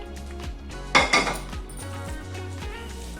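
A warm coconut barfi mixture spread and levelled with a utensil in a ghee-greased tray, with a couple of sharp metallic clanks and scrapes near the start, then lighter scraping and tapping against the tray.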